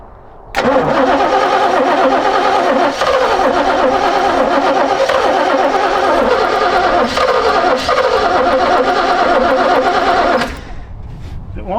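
A 1968 Oldsmobile 442 muscle car engine, long unstarted and missing its dipstick, cranks and catches into a loud, rough, steady running roar for about ten seconds before cutting back down, close and dominant.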